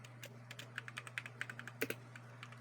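Someone types a search on a computer keyboard, a quick series of light, close key clicks with a faint steady hum underneath and no talking.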